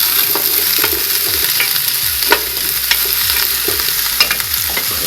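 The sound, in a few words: stirring celery and onion in a stock pot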